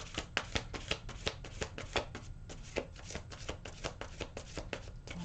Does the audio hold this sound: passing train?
no